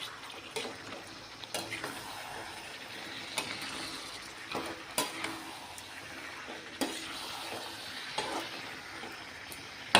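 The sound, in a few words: chicken being sautéed (fried and stirred) in oil in a pan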